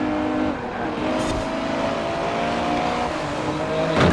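A Ferrari SUV races in a Forza Horizon 4 street race, its engine droning steadily at high revs with gear changes, a brief squeal or burst near the end, no talking.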